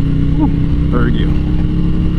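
A motorcycle engine drones steadily while riding in third gear, close and continuous, with someone talking over it.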